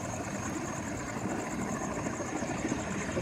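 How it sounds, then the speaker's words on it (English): A Tucson university medical helicopter takes off, with a steady rotor and engine drone that holds at a fairly loud, even level throughout and has no speech over it. "Tucson medical helicopter taking off."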